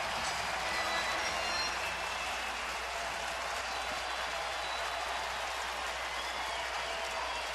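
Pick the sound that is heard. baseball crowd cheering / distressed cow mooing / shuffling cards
baseball crowd cheering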